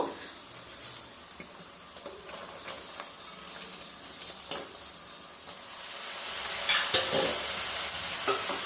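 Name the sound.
stirring cabbage in oil in a frying pan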